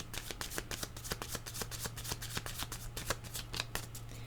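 Tarot cards being shuffled up close in a fast, steady run of crisp riffling flicks, repeated rhythmically for several seconds over a low constant hum.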